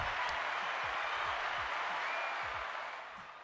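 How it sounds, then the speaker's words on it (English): Brief round of applause for a caller on a talk show, a steady wash of clapping that tails off toward the end. "Give you a round of applause for that one, bro"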